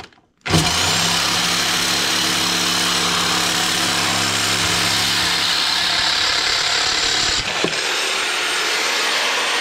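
A reciprocating saw cutting through the roll cage of a 2018 Can-Am Maverick X3 XMR Turbo R runs as one loud, steady motor drone with a rough buzz, held for about seven seconds before cutting off abruptly.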